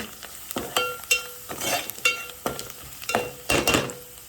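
Coriander leaves frying in hot oil for a quick mutton masala, with a steady close sizzle broken by repeated sharp bursts and spatters as the pan is stirred, with faint clinks of a utensil and no talking.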